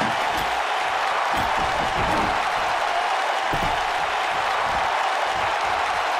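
Arena crowd noise from a WWE 2K19 tables match, a steady broadband roar of cheering that holds at an even level throughout without letting up.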